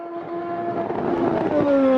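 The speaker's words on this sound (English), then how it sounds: "And here the engine sound, very detailed sound of the engine as well." An F1 Gen 02 race car engine in the video game Automobilista 2 at Jacarepagua howls continuously at high revs, its tone climbing and shifting as it accelerates, loud and steady without talk.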